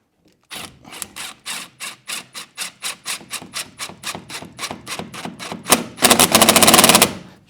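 A Jubilee hose clip on flexible dust-extraction hose is ratcheted tight, giving a loud, regular series of rasping clicks that quickens into a rapid burst near the end, alone without talk.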